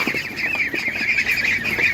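Geese honking repeatedly nearby at an animal market, a busy overlapping chorus of nasal calls with no talking.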